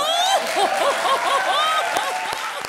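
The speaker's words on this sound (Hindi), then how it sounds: "जोरदार तालियां बजा" A comedy show audience applauds under a sung or hummed melody, the clapping steady and moderately loud beneath the tonal line.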